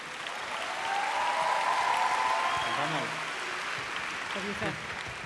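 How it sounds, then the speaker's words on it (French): Graduates at a Master Grande Ecole degree ceremony applaud, the sustained crowd clapping a steady, distant-sounding wash that fades slightly, while voices talk over it. "Vous pouvez vous applaudir plus fort."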